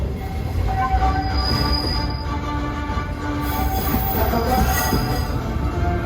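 A Walt Disney World Railroad train at the Magic Kingdom rolls loudly along the tracks with steady rumbling and high metallic wheel squeals, close by and continuous.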